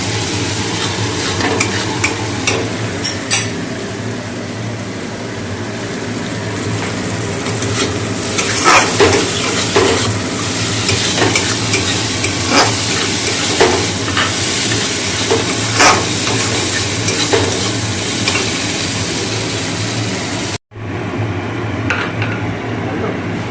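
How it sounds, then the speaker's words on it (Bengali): A fish curry bubbles and sizzles steadily while a utensil stirs and scrapes the pan, close and fairly loud throughout. "ঝোলটা ফুটছে এই দেখো"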